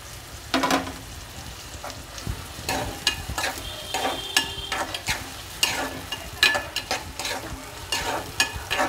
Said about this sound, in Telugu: ఇప్పుడు తరిగి పెట్టుకున్న ఉల్లిపాయలు వేసుకుంటున్నాను